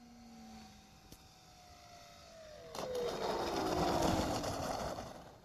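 A Fantasy Racer ZD model airplane comes in to land, its thin motor whine sliding steadily downward in pitch before a louder, broader rushing sound swells near the end. There is no talk.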